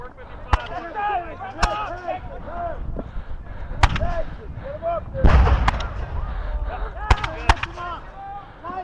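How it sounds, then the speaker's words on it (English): Musket volleys fired by soldiers at a War of 1812 reenactment of Chippewa and Lundy's Lane at Fort Erie: sharp, loud cracks spaced irregularly, some close together, over crowd chatter and talk. "as the soldiers are firing, you're going to notice every once in a while their muskets will flick instead of bang"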